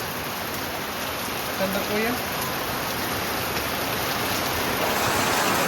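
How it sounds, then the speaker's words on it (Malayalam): Heavy rain pours down steadily around a home, a dense, unbroken hiss of drops on surfaces lasting throughout, with a faint high whine running beneath it for most of the stretch. "അത് കുഴിച്ചിട്ടപ്പ തുടങ്ങിയതാണ് ഈ ഭയങ്കര മഴ"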